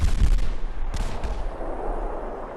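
Gunfire from a nearby fight in Fallout 4, set in a cold, rainy settlement: a loud, close burst of shots at the start, then a second sharp crack about a second later, with a rumbling low tail and steady background noise.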